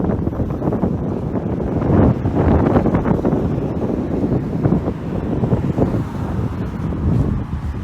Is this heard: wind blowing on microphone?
yes